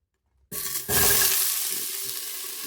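Onions dropped into a preheated pan for a spicy Korean chicken stew, bursting into a loud sizzle after a moment of silence and then settling into a steady, slowly fading fry.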